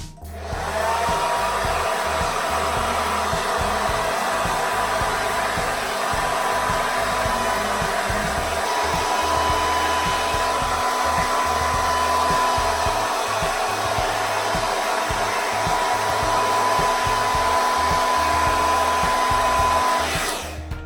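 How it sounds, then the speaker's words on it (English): A blow dryer runs continuously at close range with a steady high whirring roar, its airflow fluttering slightly as it moves over hair. "so I'm just gonna blow dry it downward at an angle"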